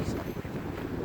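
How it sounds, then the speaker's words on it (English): Strong 25 mph wind on a hot, sunny day buffets the microphone with a loud, continuous low rumble and gusty roar, close and unbroken throughout. "the wind is blowing 25 miles an hour right now"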